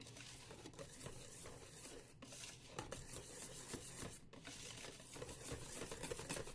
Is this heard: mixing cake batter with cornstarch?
yes